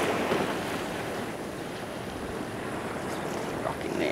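Sea water swelling and washing around rocks on a pristine beach at St Helens, a soft, steady wash of surf mixed with light wind noise, fairly quiet and continuous with no voices.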